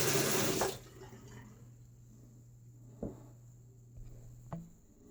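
A shaving razor, a Karve Chris Bradley with a Feather blade, is rinsed under running water, starting with a short loud splash, then quiet with a few soft taps and drips.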